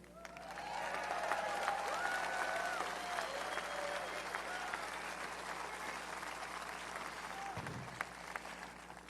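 Outdoor political rally crowd in Pennsylvania claps and cheers in a sustained, broad roar, with a few whoops and shouts rising above the applause early on before it settles into steady clapping.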